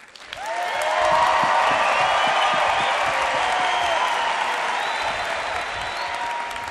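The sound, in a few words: audience applause judging contestants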